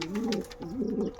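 Kaldom pigeon cooing close by in two rolling, throaty phrases, a brief pause between them, with faint background noise and no talk.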